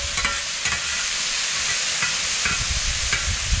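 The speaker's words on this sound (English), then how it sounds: "We're gonna do a little stir fry." Frozen vegetables sizzle and hiss on a hot grill plate insert while being stir-fried, with repeated scraping and tossing strokes of a utensil cutting through the steady frying noise.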